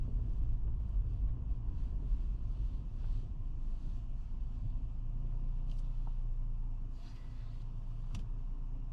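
A car on a road crossing a trail-riding route near Allegan, Michigan, heard as a steady low rumble, distant and moderately faint, holding constant for several seconds and easing slightly near the end.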